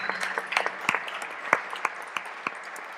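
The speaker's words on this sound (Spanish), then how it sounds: "Le damos un aplauso a los dos nuevamente." An audience applauds at a panel discussion, a moderate patter of clapping with a few sharp, distinct claps standing out above the rest.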